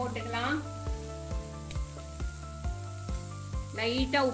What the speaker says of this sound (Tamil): போட்டுட்டு இதை நல்லா ஃப்ரை பண்ணலாம்